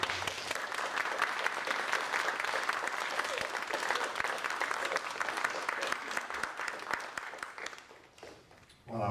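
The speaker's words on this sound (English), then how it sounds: "Can we give one more round of applause for Sherwin and his poet?" A steady round of audience clapping follows a poetry reading by Sherwin Bitsui in the Emory & Henry Larmore Visiting Poet Series, sustained and dense throughout before thinning near the end.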